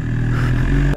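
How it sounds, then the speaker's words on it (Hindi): A BMW S1000RR sport motorcycle's engine on the narrow streets of Jaisalmer rumbles with a loud, steady, close-up drone that dips abruptly near the end of the brief moment. "बाइक की आवाज की वजह से डर रहे हो लोग"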